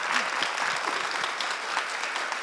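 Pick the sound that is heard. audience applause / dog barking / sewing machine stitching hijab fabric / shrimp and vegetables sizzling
audience applause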